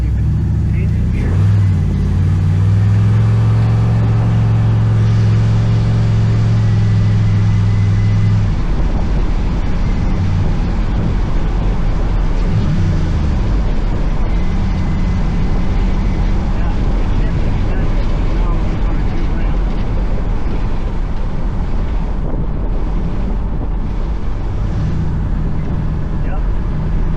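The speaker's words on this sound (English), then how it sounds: "Let's take it for a nice easy drive down the road here and see if it changes here." A V8-swapped Toyota Celica with a 4T65E automatic transmission runs easily down a road. A low engine drone at first gives way to continuous rumbling road and wind noise throughout.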